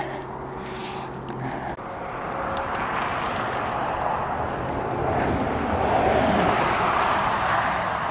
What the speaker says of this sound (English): It's that cold out and the wind's blowing.